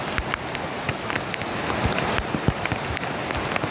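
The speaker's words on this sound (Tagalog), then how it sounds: "Kasi lakas ng ulan ngayon, no?" Steady, dense rain hisses without pause, with scattered drops pattering on a surface and a low rumble underneath.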